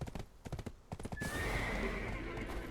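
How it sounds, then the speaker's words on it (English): A horse in the video game Black Desert Online clip-clops with several hoof steps and then gives a loud, drawn-out neigh, with no voices over it. "Well, we're gonna leave the horse over here."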